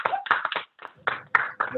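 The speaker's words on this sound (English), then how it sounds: "So let's clap for her, please." A small audience at a real estate talk claps in a few loose, uneven bursts that stop and start, with voices and a chuckle mixed in.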